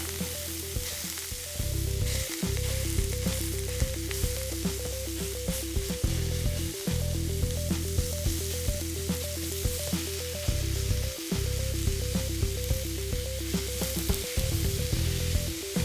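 Ground beef frying in a pan on high heat, a steady loud sizzle with periodic scraping and stirring as the meat is broken up, plus a repeating rhythmic hum underneath.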